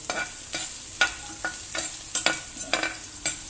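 Garlic and onion are sautéed for chicken adobo, a gentle sizzle running beneath regular scraping strokes of a spatula across the pan, each stroke a short, close swish about every half second.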